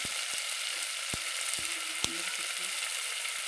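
Eggplant pieces with red chilli powder, turmeric and spices sautéing in hot oil, a steady close sizzle with a few sharp spoon taps against the pan.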